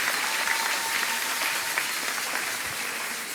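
Applause from a church congregation fills the room in a steady, dense wash of many hands clapping. It stays fairly loud throughout and no one speaks over it.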